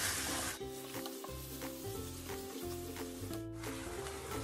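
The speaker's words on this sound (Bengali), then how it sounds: "চিকেনটা দিয়ে দিব। এবং ভালোভাবে মশলার সাথে মিক্স করে নেব।" Chicken pieces tossed with spices in a hot pan for a restaurant-style shahi chicken rezala, giving a steady close sizzle with scraping, rubbing stir strokes throughout.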